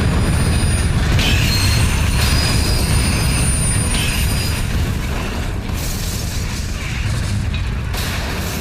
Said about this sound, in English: I'm about to get hit by that speeding train